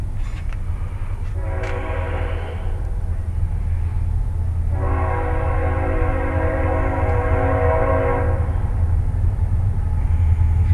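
A train rumbles past nearby with a constant low roar, and its horn sounds twice, a short blast then a longer sustained one, loud and close.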